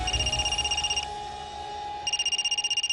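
A mobile phone ringtone sounds as a close, loud, rapidly pulsing electronic trill, with two bursts separated by a short pause.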